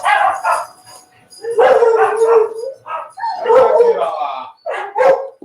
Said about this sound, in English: somebody's at the door, so all the dogs must protect the house